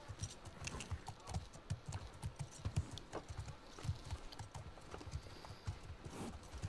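Horse hooves clip-clopping in a steady walking rhythm, close and clear, continuing throughout at a moderate level, from a brown horse in The Last of Us Part II.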